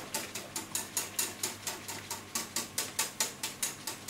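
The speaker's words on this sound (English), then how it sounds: "just keep whisking" A whisk beating a creme caramel mixture in a bowl gives a steady run of quick, regular clicking strokes, close and fairly quiet, with no voices over it.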